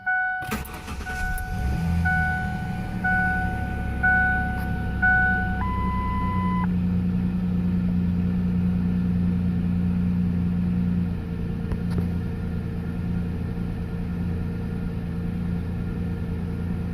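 A 1999 Ford Ranger XLT starts up: a brief crank catches amid a series of chiming dash beeps, then the engine settles into a steady, deep, close idle rumble that runs on alone.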